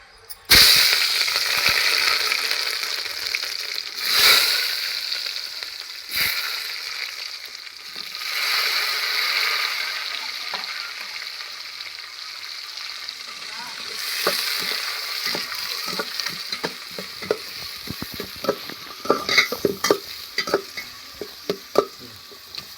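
Cinnamon, cloves and cardamom sizzle in hot oil over a wood-fire stove, a steady bright frying hiss with occasional pops and crackles that grow denser toward the end.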